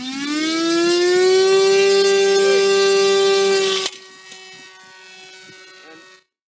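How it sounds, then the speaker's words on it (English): Small Ag Eagle drone plane's engine revved to full power for takeoff: a loud, steady high-pitched buzzing drone, nearly constant in pitch for about four seconds, then dropping sharply to a quieter, thinner whine that fades out. "turn the engine on, give it full power"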